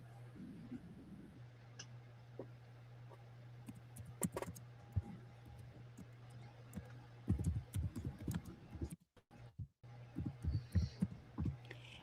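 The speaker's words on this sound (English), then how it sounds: "Typing it all." Typing on a computer keyboard during a live online sale, with scattered soft key clicks over a steady low hum and some muffled handling noise.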